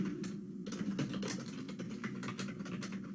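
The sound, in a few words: typing a C program on a computer keyboard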